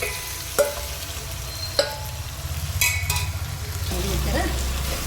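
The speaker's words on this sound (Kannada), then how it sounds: "ಈ ಥರ ಎಣ್ಣೆಯಲ್ಲಿ 2 ಸತಿ ಕೈಯಿಸ್ಬೇಕು." Mango dumplings frying in oil with onion, garlic and green chilli while being stirred, a low steady sizzle with a few sharp clacks of the spoon against the pan, no voices.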